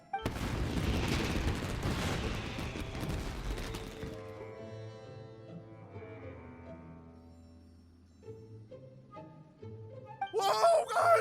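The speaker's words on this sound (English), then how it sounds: "Yoimiya, this is turning into a bit of a fireworks display." Fireworks burst in a fantasy video game, a dense crackling barrage of booms for several seconds that gives way to soft game music, then a last sharp burst of pops near the end.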